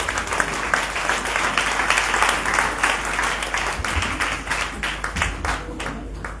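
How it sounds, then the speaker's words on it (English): A church congregation at a Sunday service claps together in a steady, continuous wave that fills the room, then thins slightly toward the end. "Clap for Jesus, somebody"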